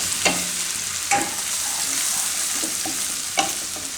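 Vegetables and green turmeric are stirred in hot oil, a continuous close sizzle broken by a few distinct scrapes and clacks of the spoon against the pan.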